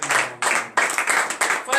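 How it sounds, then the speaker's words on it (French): Brief bursts of clapping and applause from a congregation at a morning prayer meeting, rising and falling in loud waves. "Donnez encore une vive acclamation à l'Éternel."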